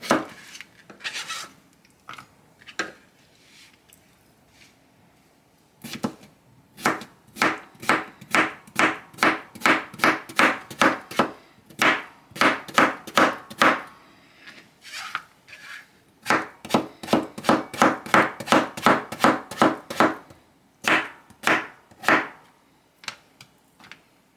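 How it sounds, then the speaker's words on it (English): A knife chops cucumber on a cutting board, close and crisp, in quick rhythmic bursts of sharp taps separated by short pauses, with no talking. "And then I cut my cucumber down lengthwise."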